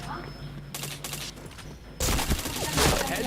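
Rapid bursts of gunfire in a video game shooter, a short volley early, then a dense, loud sustained barrage in the second half, heard close with game sound around it.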